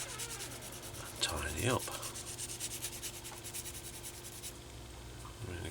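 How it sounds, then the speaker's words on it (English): A small handheld sander rubs against the spokes of a scale model German motorcycle wheel, producing a close, scratchy, uneven rasp with a few louder scrapes, while a voice speaks briefly. "around each of these spokes we are literally just going to get our little sander"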